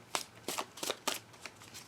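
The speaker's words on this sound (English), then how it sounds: "I'm currently shuffling to keep the facing the same" A tarot deck being shuffled by hand, with six or seven crisp riffling swishes at a steady rhythm, close but quiet, with no talk over them.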